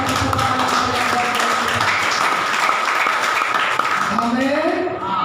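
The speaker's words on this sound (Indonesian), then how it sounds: "Kita berikan tepuk tangan yang baik." Church congregation applause fills the space, a busy patter of hands mixed with voices and cheering, loud and close throughout.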